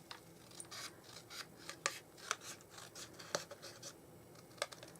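Scissors cutting paper for greeting card stamping: a run of crisp, close snips and scrapes, irregular in rhythm, with no voices.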